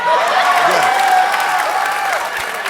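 A live comedy podcast audience bursts into applause, clapping loudly and continuously with cheering and whoops mixed in.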